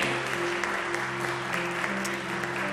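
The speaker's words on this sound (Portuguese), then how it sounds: "Você pode aplaudir a Jesus, igreja?" A church congregation applauds at a worship service, with steady continuous clapping from many people under a constant hum of the room.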